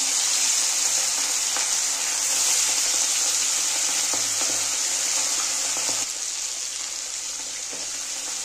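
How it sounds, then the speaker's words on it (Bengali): Hilsa fish pieces coated in mustard paste fry in hot mustard oil, giving a steady, close, broadband sizzle that holds evenly for several seconds and eases slightly near the end. "তেলটাও গরম হয়ে গেছে। আমি মাছগুলো আস্তে আস্তে দিয়ে দেবো সব।"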